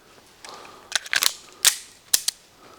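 Rapid target shooting with a gun fitted with a Gideon Optics Alpha sight, a few sharp, fairly distant cracks in quick clusters separated by short pauses, with no talk.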